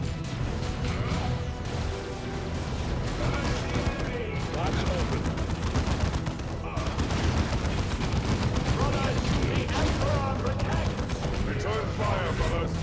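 Gunfire rattles through a Warhammer 40,000 video game battle, with dense, continuous bursts and heavy impacts. Crashes and mechanical clanks come through, and voices talk over the din.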